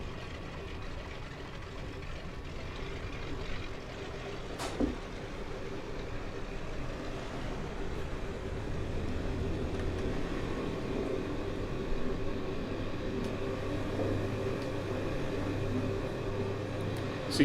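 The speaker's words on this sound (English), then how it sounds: "right engine is alive and started running well" Ford Tri-Motor floatplane engine running in Microsoft Flight Simulator, a steady low droning hum with a faint rumble that swells slightly in the second half, continuous and unbroken, with one brief click near the start.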